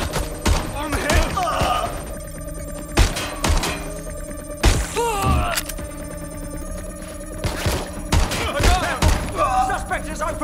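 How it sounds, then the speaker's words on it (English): In the game Watch Dogs Legion, a suspect opens fire, sending sharp gunshot cracks at irregular intervals over a humming game background, with voices speaking in between. "Suspect has opened fire!"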